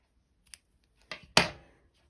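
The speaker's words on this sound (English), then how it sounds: "cut the yarn" Scissors cutting yarn, a faint snip followed by two sharp close cuts in quick succession in an otherwise quiet room.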